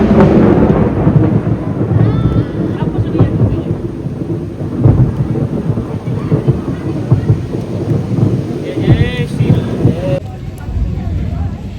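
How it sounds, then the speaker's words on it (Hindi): Heavy rain pours on Trikut mountain while rolling thunder rumbles loud and close, with wind buffeting the microphone. A person speaks over the storm. "और अभी यहाँ पे बारिश होने लगी है"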